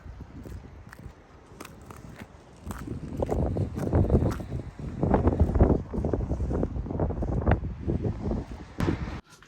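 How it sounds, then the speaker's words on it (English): Wind gusting outdoors on a snowy, bitterly cold day of about -12, a steady rushing roar that builds and buffets close to the microphone, with crunching steps mixed in and no talk. "It's pretty windy"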